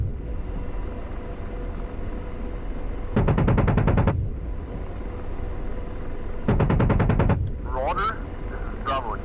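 Two long bursts of rapid automatic gunfire in a military video game, loud and rhythmic, separated by quieter ambient rumble, followed by a short squeal of radio or electronic noise.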